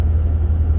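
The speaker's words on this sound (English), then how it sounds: "you might hear she's running a little high right now. That's high idle from a colder start." An older daily-driver car idles high after a cold start, a brief steady low rumble with a pulsing engine beat close by and no talk.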